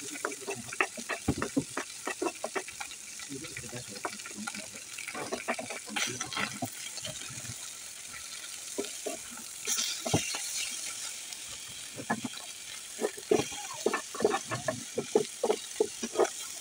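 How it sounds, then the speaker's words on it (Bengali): Chopped onion and garlic frying alongside fish in a pan: a continuous sizzle broken by frequent sharp scraping and clattering from stirring, with a watery, running texture in places and no speech. "এখন আমি পেঁয়াজটাকে ভালোভাবে করে মাছের সঙ্গে ভেজে নিব।"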